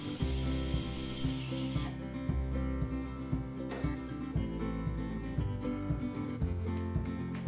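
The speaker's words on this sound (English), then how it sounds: "I'm now using the 13mm drill bit to drill the head from the rivet." A power drill with a 13mm bit drills the head off a rivet on a table saw wheel, a close, steady grinding whir with repeated scraping catches as the bit bites into the metal.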